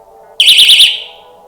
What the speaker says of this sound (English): when water touches the probe, it makes a connection and an alarm goes off